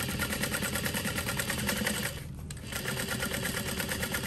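Sewing machine running steadily as it stitches around the seam of a vinyl Liberty shoulder bag, a continuous close whirring hum with a brief dip near the middle before resuming.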